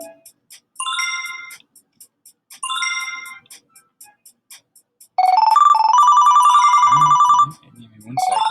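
A phone's message notification ringtone chimes in short bursts, then a longer sustained melodic ring that stops mid-phrase, followed by a few low soft thumps; loud and close, with no talk.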